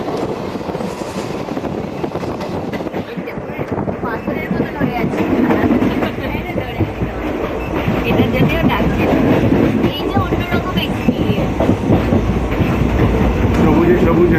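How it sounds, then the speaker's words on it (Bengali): A coal train passes on the railway with a loud, building rumble and rhythmic clatter of wheels over rail joints, growing heavier through the second half, with some wind buffeting. "কয়লার ট্রেন যাবে পাশ দিয়ে"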